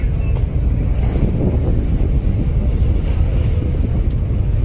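A passenger ship departs in the evening, giving off a steady, loud low engine rumble with heavy wind buffeting the microphone and no clear voices.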